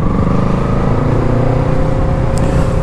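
A motorcycle engine roars loudly and steadily up close, its droning pitch holding under heavy wind rush as it accelerates.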